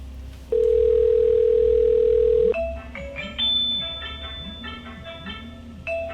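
An unanswered telephone call: a steady line tone holds for a couple of seconds, then gives way to repeated electronic ringing tones that keep going without a pickup, clear and close.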